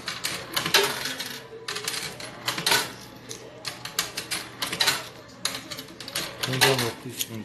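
Coins clatter into a coin-operated laundromat machine in a quick series of metallic clinks and drops, mixed with people talking nearby.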